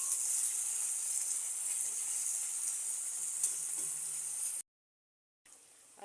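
Fish sizzles steadily in a frying pan as it is stirred, a constant bright hiss close by with soft scrapes, cut by a short silence near the end.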